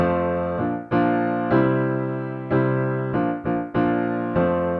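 Piano notes struck one at a time in a steady, even pulse, each low tone ringing until the next, with no voices.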